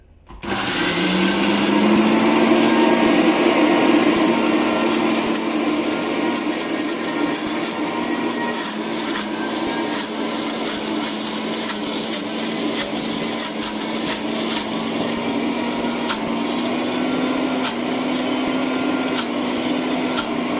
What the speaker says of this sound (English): As we blend on a really low setting, the lowest that you can get your blender to